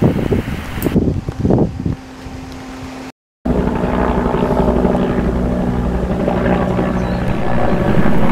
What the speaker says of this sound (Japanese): 2021の報道ヘリが飛んでいます。